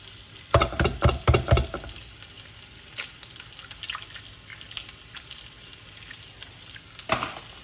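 An egg cracked into a pan already used for cooking salmon and vegetables, with a few sharp knocks and clatters up close, then a steady low sizzle of frying underneath and another clack near the end.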